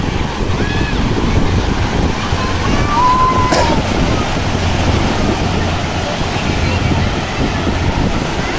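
Steady roar of ocean surf at San Fabian Beach in the Philippines, with wind buffeting the microphone and a faint boat sound, continuous and fairly loud throughout.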